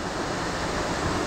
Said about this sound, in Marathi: काळू वॉटरफॉल जवळ.